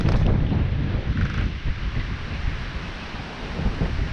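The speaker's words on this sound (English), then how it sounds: "the wind is starting to blow" Strong, steady wind gusting through a wooded trail, a continuous broadband roar with buffeting against the microphone and no voices.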